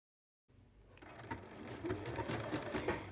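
A sewing machine starts up after a brief silence and runs a steady medium zigzag stitch over fold-over elastic, its motor whirring close and continuous, growing slightly louder, with no talk.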